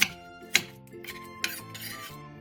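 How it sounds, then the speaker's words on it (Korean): A knife chops chili pepper and green onion against a cutting board three times at an uneven pace, close and fairly quiet. "청양고추를 어슷썰고 대파 2분의 1개를 3cm 정도 길이로 잘라주세요."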